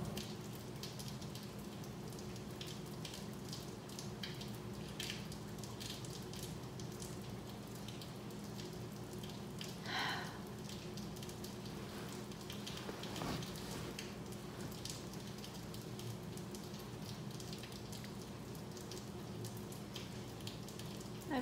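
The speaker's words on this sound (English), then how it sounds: "I feel so much gratitude for this rain right now." Steady, faint rain falls as a soft continuous patter and hiss, with no voices and only a couple of slightly louder drips.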